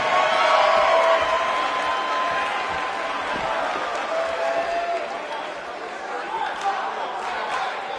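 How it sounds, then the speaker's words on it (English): Sold-out arena crowd in WWE 2K19, a steady wash of cheering and chatter that stays loud throughout, swelling slightly at the start and holding a dense roar to the end. "We have a sold-out, record-setting crowd here for BCW tonight."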